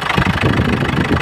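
A Ford Ranger engine with a large fuel leak fault runs roughly just after being restarted, a loud close-up rumbling idle with uneven knocking pulses.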